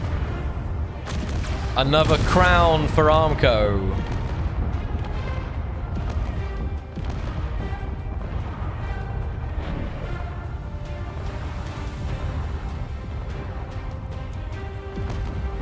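Space Engineers WeaponCore tournament battle: a dense, continuous barrage of explosions and weapon fire rumbling throughout, with a voice speaking over the combat.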